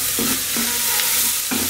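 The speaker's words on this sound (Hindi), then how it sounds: "इसमें आलू डालेंगे चॉप किए हुए।" Chopped potatoes hit sautéed onions in a hot pan for pav bhaji, giving a steady close-up sizzle with a few short scraping stirs of a spoon.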